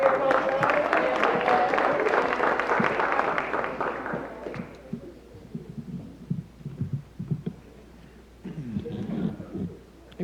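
Applause from the audience at a high school wrestling awards ceremony, a loud burst of clapping that fades after a few seconds into softer scattered claps, voices and room noise.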